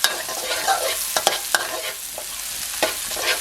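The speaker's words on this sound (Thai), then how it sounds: "ผัดไปเรื่อยๆนะครับไม่ต้องรีบครับ" Chili and garlic stir-fried in hot oil for Thai basil minced pork, a steady close sizzle broken by sharp scraping clicks of a spatula against the pan, with no voices.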